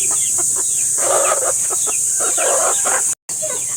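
Hens clucking in short repeated bursts over a steady high-pitched hiss, fairly close and continuous, with a brief dropout near the end.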